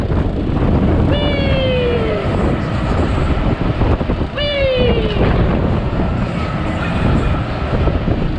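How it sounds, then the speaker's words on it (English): Strong wind roaring around the top of a fairground ride, a loud continuous gusty rush across the whole clip, with two drawn-out high squeals from the ride's machinery and voices faintly beneath. "It is windy. It is very windy here."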